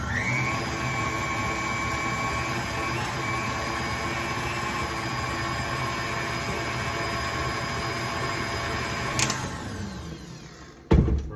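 An electric kitchen mixer runs steadily at medium speed, whipping a mixture toward peaks with a constant whirring motor hum, then cuts off near the end followed by a brief clunk.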